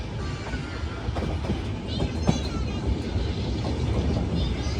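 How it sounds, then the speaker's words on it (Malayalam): A passenger train on the Jaipur to Ajmer line pulls into a station, heard from inside the coach as a steady, loud rolling rumble with a few sharp wheel clacks scattered throughout. "ഏതോ ഒരു സ്റ്റേഷനിലേക്ക് ട്രെയിൻ എത്തിക്കൊണ്ടിരിക്കുകയാണ്"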